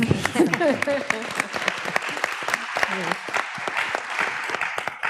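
Scattered applause from an audience at a sustainability and entrepreneurship event, moderate and uneven, with distinct individual claps and people talking through it.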